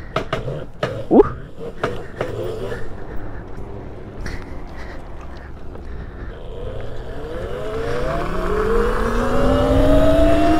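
A Razor MX650 electric pit bike, upgraded to 72 volts and ridden in its lowest power mode, gives a few knocks and rattles, then a loud electric motor whine that climbs steadily in pitch as it accelerates.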